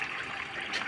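Water flows by gravity from storage tanks into a 25,000-litre pool system, a steady close rushing trickle, continuous and even, with no voices.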